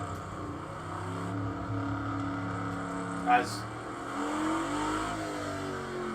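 A race car engine in Project Cars 2, driven with a manual clutch and H-pattern gearbox, revs and drones with stepped pitch changes between shifts and a brief sharp burst midway, fairly quiet and steady.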